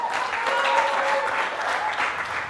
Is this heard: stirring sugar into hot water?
no